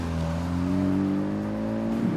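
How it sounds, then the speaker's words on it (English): An Audi S3 with paddle shifters and a six-speed gearbox pulls through a gear, its steady engine drone holding close and loud for about two seconds, with a slight rise near the end like an upshift blip. "It's got paddle shifters, a 6-speed gearbox, and that lovely rorty blip when you upshift the gears."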